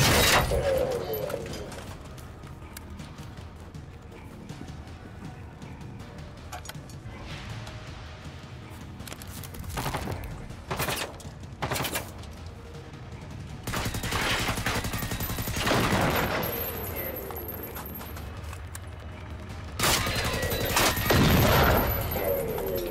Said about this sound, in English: Oh, he's shooting me from behind.